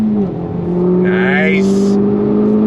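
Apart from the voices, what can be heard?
Honda Civic Type R FL5 accelerating on throttle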